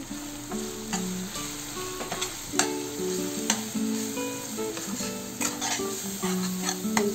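Goat liver curry with spices sizzling in a pan while a spoon stirs it, giving steady frying hiss with frequent scraping strokes, close and moderately loud, no talk.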